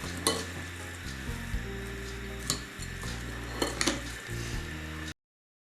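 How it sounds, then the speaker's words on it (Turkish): Rice stirred in a pot with a little cold water added, a steady wet scraping and swishing with faint clinks of the utensil against the pot, close and alone over a low background hum. "Ve pirinçleri zedelemeden karıştırıyoruz"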